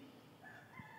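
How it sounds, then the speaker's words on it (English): A rooster crows faintly in the distance in Key West, a short thin call rising over quiet outdoor ambience. "I love these roosters."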